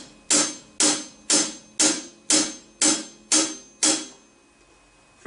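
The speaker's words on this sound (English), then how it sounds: "will usually start with your hi-hat cymbal, which is what keeps your time" A hi-hat cymbal on a drum set is struck in a steady, even beat of eight crisp, bright hits, close and alone, then falls silent.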